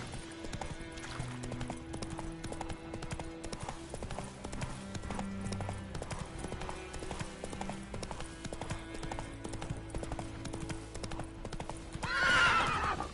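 Horse galloping in a video game, with a steady, rhythmic clip-clop of hooves throughout, a whinny near the end, and faint voices in the background.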